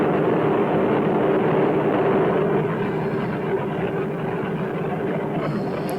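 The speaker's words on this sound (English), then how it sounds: "That sounds almost fake added sound, doesn't it? Like a jet on a landing pad." Steady jet engine roar on the soundtrack of purported UFO footage, like a jet idling on a landing pad: a continuous, dense, unvarying rumble and hiss at constant loudness throughout.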